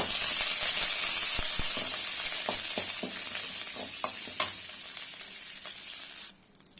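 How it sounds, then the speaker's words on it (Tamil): Dried red chillies and curry leaves crackle and sizzle in hot oil after mustard seeds are tempered, a loud continuous fry with scattered pops that fades out near the end. "கருவேப்பிலாம் பொரிஞ்சு எடுத்து"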